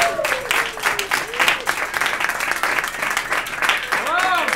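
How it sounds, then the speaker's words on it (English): An audience at a café music festival applauds Kevin, with dense clapping that runs the whole time, cheers and whoops rising over it, and voices calling out. "how about a round of applause for Kevin?"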